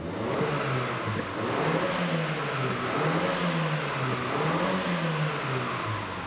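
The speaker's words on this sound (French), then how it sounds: "On entend un petit coup de blow-off valve comme ça" A 2017 Mazda CX-9 Signature engine revs steadily from inside its insulated cabin, a continuous mid-pitched drone rising and falling in waves, with a brief turbo blow-off valve release expected though not clearly separable.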